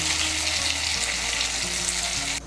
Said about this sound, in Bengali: মুইঠাগুলোকে লাল করে ভেজে নেব।